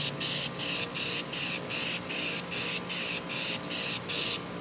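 Repeated short bursts of spray paint hissing from a can, about ten evenly spaced sprays with brief pauses between, close and steady.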